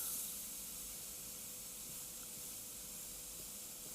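An Ammo Atom airbrush sprays at around 20 psi, giving a steady, even airy hiss close by that holds without a break, with no talk.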